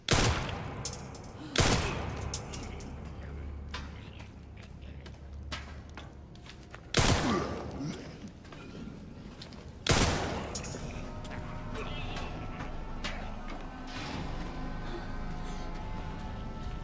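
Three loud, sharp gunshots in a video game on insanity difficulty, spaced several seconds apart, each followed by a short ringing decay over a low ambient hum.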